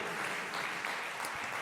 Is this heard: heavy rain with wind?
no